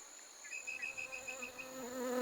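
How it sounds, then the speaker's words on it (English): Hoverflies hovering, their beating wings making a faint, thin whining buzz that holds steady and swells slightly toward the end, with no talking. "These flies can flap their wings and stay in the air a long time."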